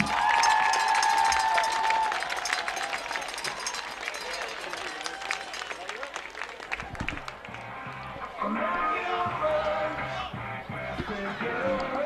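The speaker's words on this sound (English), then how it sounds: "One last round of applause for all of the players." A crowd at a high school football game between Nekoosa and Mauston applauds and cheers the players in a steady, dense wash of clapping that continues throughout, with an announcer's voice over the stands.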